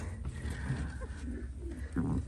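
Pigeons kept in breeding boxes coo in soft, low, throaty murmurs close by over steady background noise, with a louder coo near the end.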